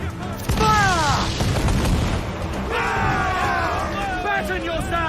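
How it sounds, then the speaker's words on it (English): Ship cannons booming in a naval battle in Assassin's Creed 4 Black Flag, heavy low blasts amid crew shouting and battle noise, with a rumble that continues under the voices. "Batten yourselves! Enemy's firing!"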